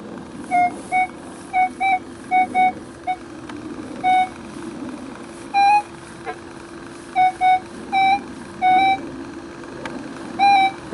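A metal detector sounds short, repeated electronic beeps over a buried target that may be a silver coin. The tones come in irregular bursts over a steady low hum of background noise.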